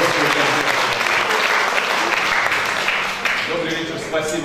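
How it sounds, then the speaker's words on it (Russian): Concert audience applause at a music academy event in Baku, loud sustained clapping from a full hall, with some voices mixed in near the end. "я бы хотел, чтобы вы своими аплодисментами поддержали и вдохновили на хороший концерт"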